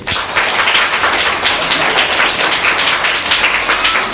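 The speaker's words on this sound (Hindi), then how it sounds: "ताली बजाइए।" A classroom audience of schoolchildren claps loudly and steadily, a dense close roll of many hands applauding a student who answered every question correctly, with no talk over it.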